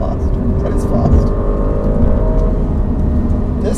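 A 2019 Alfa Romeo Giulia Quadrifoglio accelerating hard, a steady loud engine drone heard from the cabin, rising gently in pitch over a few seconds, with road and wind noise beneath.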